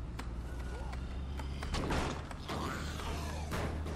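A door gets smashed in the zombie survival game State of Decay 2, with repeated sharp creaking and cracking impacts over a low droning game background, loud and close.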